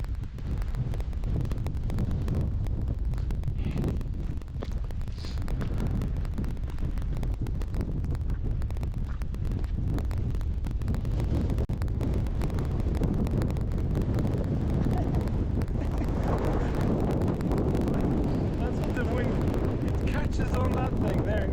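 Strong wind on a hike in Norway roars and buffets the microphone in a steady, loud rush that never lets up; a voice speaks briefly under the gusts.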